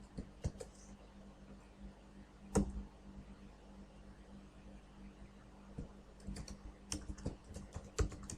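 Typing on a computer keyboard to enter a table name in Excel: irregular bursts of close, light key taps with a few louder clacks, set against a low steady background hum, no voices.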